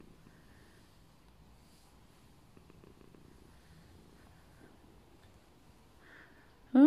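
A fluffy cat purring softly and steadily at close range, a faint continuous low rumble that runs throughout, ending with a sudden louder burst of noise.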